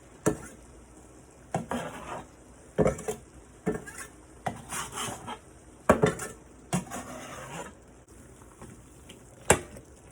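A spoon scrapes and knocks against a pot while chopped vegetables are stirred into a sizzling vegetable curry, with irregular clanks and stirring strokes spaced over a soft background sizzle.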